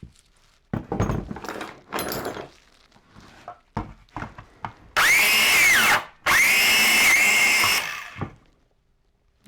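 Cordless grinder rigged as a biscuit joiner plunge-cutting a wood block: two loud, close whining cuts of a second or so each, separated by a brief pause, after assorted knocks and handling thumps.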